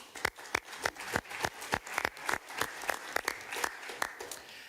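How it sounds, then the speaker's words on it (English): A small audience at a European Parliament livestock-farming discussion claps for guests, sparse, distinct hand claps in a steady rhythm, close and fairly quiet. "So one big applause for all you joining us today with your insights."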